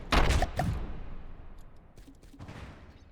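Naval guns in a warship video game firing frag and HE shells, two heavy booming shots close together followed by fainter distant impacts and rumble, no voices.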